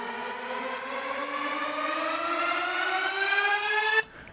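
A cinematic riser in an EDM-meets-trailer track: a loud harmonic tone sweeping steadily upward for about four seconds, thick with layered overtones, then cutting off abruptly into near silence.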